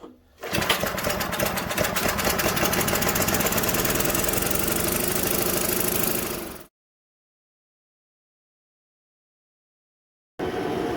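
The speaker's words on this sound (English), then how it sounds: "I got the torpedo heater going and it is quite obnoxious." A loud, rattling mechanical roar of a torpedo heater runs steadily for several seconds, close by, then stops into silence before resuming near the end.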